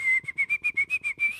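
A person whistles in imitation of the tune from Steamboat Willie: a rapid, rhythmic run of about nine short, clear whistled notes at a steady pitch, close and alone with no talking.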